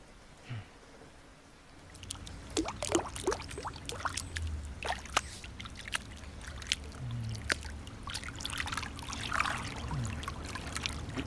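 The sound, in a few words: water running while washing hands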